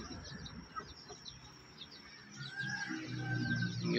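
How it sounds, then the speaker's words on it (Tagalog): A Shamo Aseel hen clucks softly in short, irregular calls, with quiet chirpy bird sounds nearby and a background rising slightly toward the end. "So yan guys yung ating hini na Shamo Asil."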